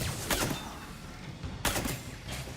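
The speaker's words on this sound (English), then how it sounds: "I've been hit by enough rockets today." Combat in the Mass Effect 3 video game against Geth rocket troopers: continuous heavy gunfire and explosive bursts, with loud sharp blasts near the start and again past the midpoint over a dense, roaring background.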